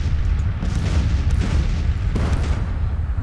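Artillery in a Civil War strategy game rumbles in a dense, continuous barrage of deep booms, several louder blasts rising out of the roar.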